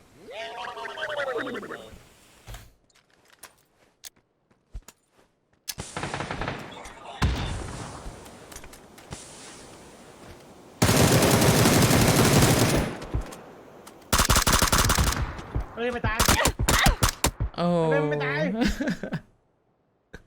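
Gunfire in the battle royale video game PUBG, loud bursts of rapid automatic shots in several dense blocks, mixed with other game sounds and excited talk in between.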